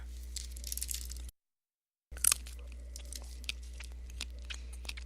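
Beef jerky being bitten and chewed up close: a sharp snap from the front teeth followed by a run of small, crunchy, wet chewing sounds over a low steady background hum, with a brief silent gap.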